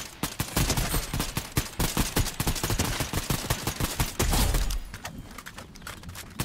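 Rapid, steady gunfire in the video game Fortnite, a long run of sharp, evenly spaced shots that stops partway through, leaving quieter background sound.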